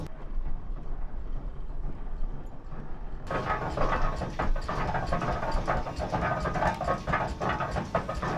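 Steam donkey logging engine running at a demonstration, heard as a dense mechanical chugging and clattering that starts abruptly a few seconds in after a quieter rumble and continues steadily.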